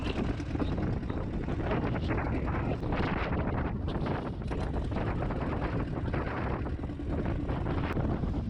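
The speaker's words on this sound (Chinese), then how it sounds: "哇，这个狂风巨浪。" Strong wind roars at sea near a shallow beach with big waves, a loud continuous rushing buffet with heavy wind noise on the microphone and no talking.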